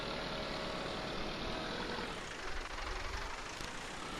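Small two-wheel-drive tractor engine heard from inside the cab in Farming Simulator 19, a steady continuous drone that holds level throughout with a slight shift in tone partway, no voices.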